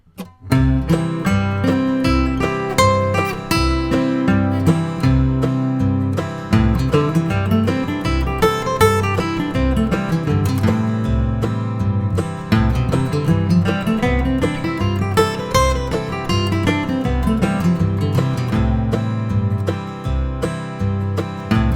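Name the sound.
guitar arpeggios and scales with backing track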